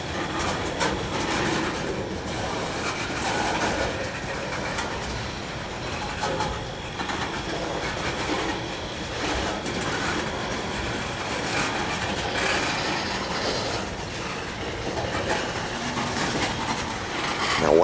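NS 192 manifest freight train passing slowly, its railcar wheels giving a steady clickety-clack with faint squeals over a continuous moderate rumble and no voices.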